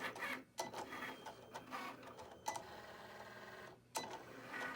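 A Cricut vinyl cutting machine runs on its own, a quiet mechanical whirring with stop-start motor bursts and short gaps as the carriage moves, no talk over it.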